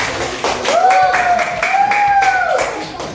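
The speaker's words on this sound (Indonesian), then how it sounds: "kita berikan tepuk tangan sekali lagi" An audience of schoolchildren and adults in a classroom or hall claps their hands, a loud rhythmic patter of separate claps under a long held vocal tone and some voices.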